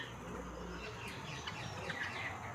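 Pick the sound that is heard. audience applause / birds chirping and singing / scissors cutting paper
birds chirping and singing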